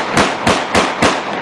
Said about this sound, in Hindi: दूसरी तरफ शदीद हवाई फायरिंग और आतिशबाजी भी होती रही